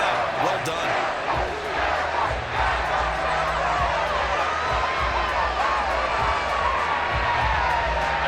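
Crowd applause and cheering in the Madden NFL 24 football video game, a continuous roar from a stadium crowd with no voices in the foreground.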